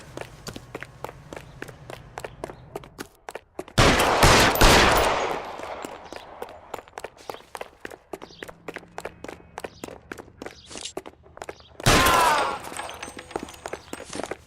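Gunfire in the video game L.A. Noire, with two loud bursts of rapid shots separated by quieter stretches where regular footsteps are heard.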